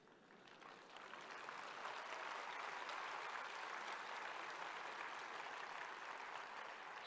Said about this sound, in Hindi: सुनने वाले को ताली बजाने में देर लगेगी।